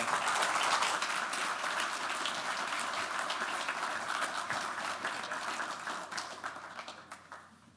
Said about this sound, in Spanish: Y te agradecemos con este aplauso tu participación